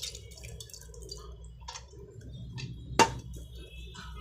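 Washed moong dal goes into a cooking pot with soft wet squishes and drips, then one sharp clink near the end, all close and fairly quiet.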